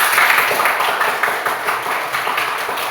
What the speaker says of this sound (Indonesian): Oke, beri tepuk tangan buat teman-teman.